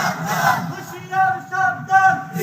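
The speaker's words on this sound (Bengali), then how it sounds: "ময়দান কাঁপানো একটা নারায়ে তাকবীরের আওয়াজ দেন" A crowd at an outdoor religious gathering in Sylhet chanting the Nara-e-Takbir response, loud massed voices rising and falling in several swelling shouts.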